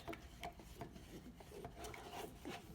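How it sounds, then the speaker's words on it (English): Paint being stirred in a cup, a rhythmic scraping and rasping of the stirrer against the cup repeating steadily at close range, with no talk. "Give it a good stir."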